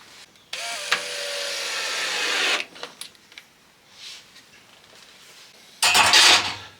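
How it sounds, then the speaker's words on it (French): A power screwdriver drives screws into squared wooden blocks while assembling a wooden fluting jig, whirring steadily for about two seconds, then quiet handling noises, then a second short, loud burst of driving near the end. "Et je vais pouvoir visser tout ça."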